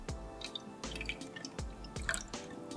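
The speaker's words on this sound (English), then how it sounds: "Now we're gonna take our bowl and we're gonna add some water to the bowl." Water splashes and drips into a bowl in a short series of separate pours and trickles, close and fairly quiet, with no voices.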